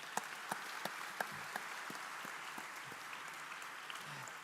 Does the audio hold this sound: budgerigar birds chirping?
no